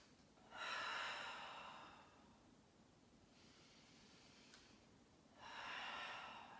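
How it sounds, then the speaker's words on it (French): Heavy, audible breathing during an exercise routine: two strong breathy exhales framing a softer, longer breath in between, close and unaccompanied by any talk. "Soufflez. Et inspirez. Soufflez."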